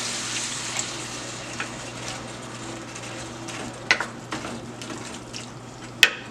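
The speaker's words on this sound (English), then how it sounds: "the next thing you're going to do is add some water" Water pours steadily into a cooking pot of onions for a blue runner fish dinner, a continuous close splashing stream with a few sharp clinks and knocks of the pot near the end.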